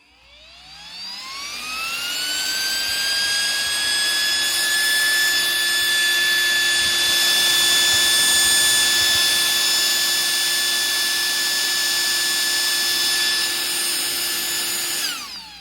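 A motor cooling fan on a Traxxas Maxx Slash 6s RC car spins up with a rising whine, then holds a loud, steady high-pitched tonal whir for about fifteen seconds, close and alone.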